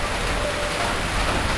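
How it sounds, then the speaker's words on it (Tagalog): Heavy rain falls as a dense, steady hiss with no pauses, loud and close, while people shelter outdoors in a survival setting. "malakas ang ulan eh"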